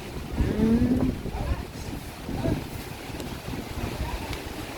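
Strong habagat monsoon wind at a beach, gusting against the microphone in steady broadband rushes while people talk over it.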